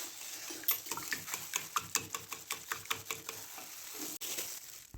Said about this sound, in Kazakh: үстінен ас содасын салып, венчиктің көмегімен бір шама қопсытып алып